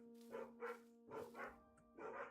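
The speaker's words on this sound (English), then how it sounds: "Somebody's walking their dog." A dog barks outdoors somewhere in the neighbourhood, faint and distant, giving three separate pairs of bow-wow barks with brief pauses between them over a steady low background hum.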